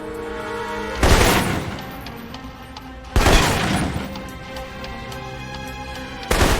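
Three loud, widely spaced single reports from an assault rifle in the video game Alpha Protocol, each a sharp blast with a short ringing decay over a steady musical game background, no talk.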